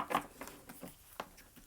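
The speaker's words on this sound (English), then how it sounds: "I'm going to shuffle one more time." A quick series of soft papery flicks and riffles, large cards being shuffled close by, with irregular taps.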